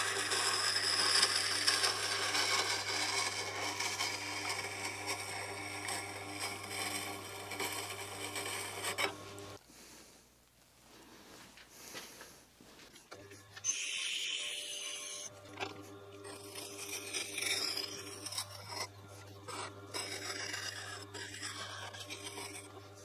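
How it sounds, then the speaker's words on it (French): A woodturning gouge is rolled and moved across a Tormek grinding wheel for sharpening, giving a steady rasping, rubbing grind that breaks off midway, goes quiet, and then resumes with a harsher scrape. "on fait rouler la gouge pour l'affûter sur tout le tranchant tout en déplaçant la gouge sur la meule"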